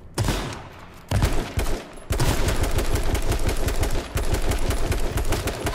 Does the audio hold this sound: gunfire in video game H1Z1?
yes